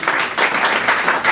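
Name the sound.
audience applause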